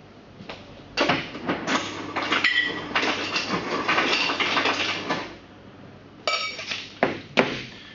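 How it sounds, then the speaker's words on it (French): A cocktail shaker filled with rum, Angostura orange bitters and other ingredients shaken hard, a loud rattling burst lasting several seconds followed by a few separate knocks and clinks. "je vais shaker une première fois afin de bien mélanger les premiers ingrédients, déjà de les rafraîchir"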